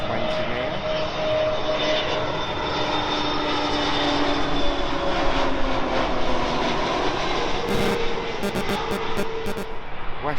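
A British Airways Airbus A320neo jet at Heathrow runs its engines with a steady roar and clear tonal whines that slowly fall in pitch, with faint clicks late on.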